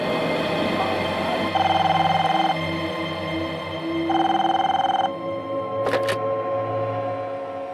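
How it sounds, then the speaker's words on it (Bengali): An outgoing telephone call rings back with two long electronic ringing tones separated by a pause, over a low steady hum, followed by a brief click or beep near the end. "এখনই রিমাকে একটা ফোন করে দেখি।"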